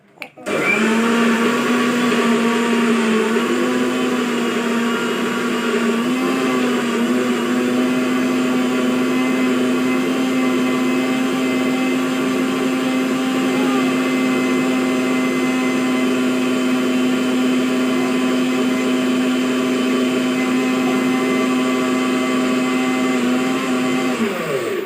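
An electric blender whirs loudly and continuously while mixing muskmelon juice, a steady motor drone that holds for about twenty-five seconds before cutting off.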